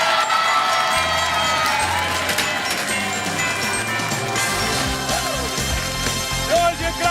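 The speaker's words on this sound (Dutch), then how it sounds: "Applaus!" A crowd at a Christmas show cheers and shouts with children's voices mixed in, a loud continuous wash of noise that carries on without pause.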